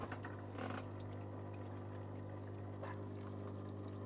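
Water runs steadily into a HAVA R09 dishwasher inside a motorhome, heard up close as a faint, continuous pouring and trickling over a constant low hum, with a few soft clicks.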